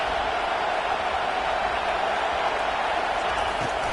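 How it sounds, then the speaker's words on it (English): Stadium crowd at a football game roaring steadily for the defense on third down, a dense, continuous wash of cheering and noise that holds at a constant loud level throughout. "Decibels rising as the crowd gets behind this defense on 3rd down."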